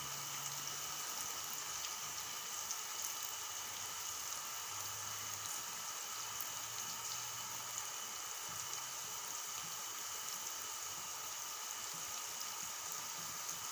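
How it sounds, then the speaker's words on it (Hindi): Onions fry steadily in hot oil for homemade fried onion, giving a continuous soft sizzle and crackle with a faint background hum and no voices. "देखिए ये अब फ्राई होता जा रहा है।"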